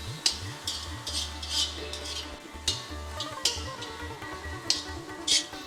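Kasuri methi and onion fry in a pan while a utensil stirs and scrapes against the metal, producing repeated clinks over a soft sizzle, with background music underneath.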